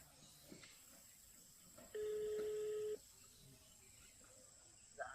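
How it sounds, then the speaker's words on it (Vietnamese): A mobile phone dials out to call a nephew, giving a single steady tone about a second long over quiet room background with faint insect chirps. "Lấy điện thoại gọi cho thằng cháu xem"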